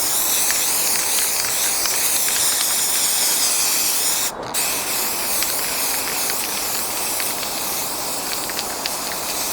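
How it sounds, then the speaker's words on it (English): Airbrush spraying matte lacquer outdoors over an OO gauge model railway layout of docks, houses and roads, a continuous close hiss with a brief break midway, no voices. "And then I'm going to do a little bit of airbrushing just over the top."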